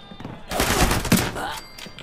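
A short, loud burst of rapid gunfire in the video game Fallout 76, lasting about a second, close and sharp.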